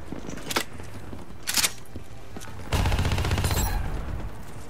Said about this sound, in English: there is someone firing rockets at me